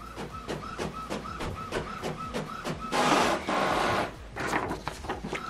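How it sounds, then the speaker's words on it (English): An Epson WF Pro inkjet printer runs a test page, with a steady train of rhythmic mechanical clicks and whirs from the print head shuttling back and forth, then a louder, denser rush of paper feeding near the end. "print test page"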